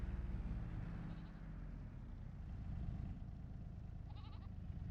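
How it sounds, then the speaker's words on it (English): Sheep bleat faintly in the Farming Simulator 22 game, a couple of brief wavering calls over a constant low engine-like drone, with no talk. "Sheep."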